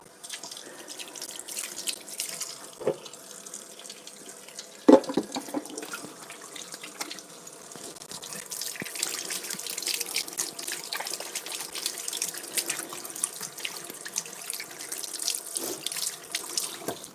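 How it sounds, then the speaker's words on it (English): Water runs steadily from a kitchen tap into a sink for hand washing, a continuous splashing hiss with a few clunks and drips, close by and alone with no talking. "I'm going to go wash my hands"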